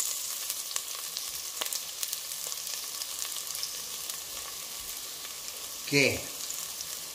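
Onion and garlic frying in a hot pan give a continuous close sizzle with occasional crackles, and a voice speaks briefly near the end over the frying.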